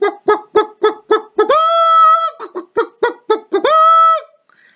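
A voice imitates a rooster, with quick clucking syllables leading into two long, loud crowing calls, clear and close.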